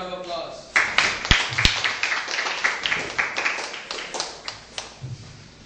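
Applause at a scout awarding ceremony comes as a loose, uneven run of claps from a small group, with a few sharp taps at the start and clapping continuing steadily to the end.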